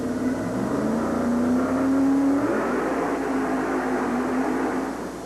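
A homemade nitrous-injected, Chevy-powered monster truck makes a drag run at a 1990 USHRA event in Baltimore. Its engine roars loud and steady, with a rising whine and a slight dip partway through over the arena din.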